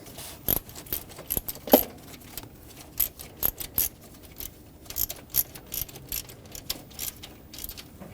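Hand ratchet tightening starter bolts on a 2006-2010 Hyundai Sonata 2.4L four-cylinder, a close series of sharp metallic clicks in irregular bursts, no talking.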